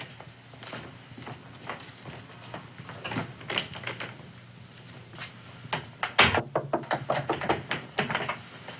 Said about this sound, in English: Answer the door, Sally.